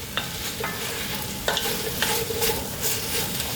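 Okra stirred in a pot for a seafood callaloo: a soft sizzle underneath with a few distinct spoon scrapes and knocks against the pot spaced across a few seconds.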